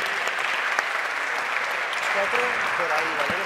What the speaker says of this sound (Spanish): les despedimos con un fuerte aplauso